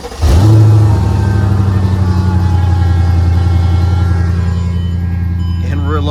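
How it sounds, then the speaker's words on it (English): A Mercedes E55 AMG engine fires up from cold after sitting for two days, a loud catch followed by a steady, fast idle that holds for several seconds with a faint voice near the end. "I need to warm my E55 up because I haven't driven this thing in 2 days. So this should be a pretty good cold start"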